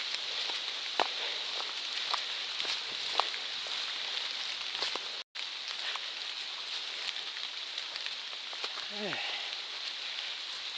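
Steady rain patters on a forest trail on a warm, drizzly day, a dense continuous hiss with scattered louder drips, close and even throughout with a brief dropout midway.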